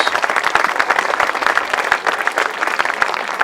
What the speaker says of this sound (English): Big round of applause, please, for Luke Harris.